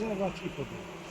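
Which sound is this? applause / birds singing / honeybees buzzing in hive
honeybees buzzing in hive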